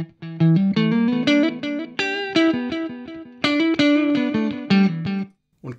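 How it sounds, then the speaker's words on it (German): An electric guitar plays a run of picked notes and chords through a delay effect from a Sidekick pedal into a Tone King Royalist MK3 amp. The repeats trail each note, and it rings out alone at close range. "Und Delay vom Sidekick."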